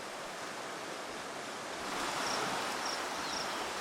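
The swollen, high Talek River in the Maasai Mara rushes in a steady broadband roar, loud and continuous, swelling slightly midway, with faint insect chirps on top and no voices.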